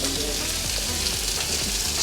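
Steady crackling sizzle of köfte and bread frying on a hot griddle at a street food stall in Samsun, Turkey, close and continuous with no talking.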